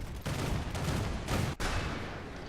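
A ZSU 57-2 self-propelled twin 57mm anti-aircraft gun fires in War Thunder, a dense, loud barrage of rapid booming shots with a brief gap near the end, then a fading rumble.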